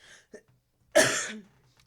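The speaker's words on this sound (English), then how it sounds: "And cough." A single loud, close cough of about half a second, preceded by a few faint short sounds and followed by quiet.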